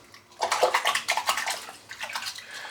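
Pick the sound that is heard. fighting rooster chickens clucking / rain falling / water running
water running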